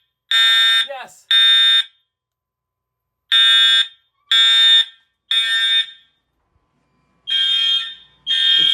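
Home fire alarm system horns of the Edwards brand sounding during a test, loud harsh electronic blasts in a repeating pattern of short bursts with gaps, the horns pulsing together in sync, no talking.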